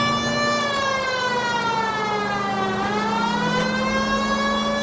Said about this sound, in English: I feel more comfortable with the siren on.